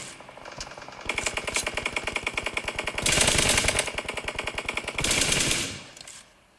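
Automatic gunfire in the PUBG battle royale game rattles in fast, sustained bursts, several long volleys rising in loudness with brief pauses between them, heard alone without talk.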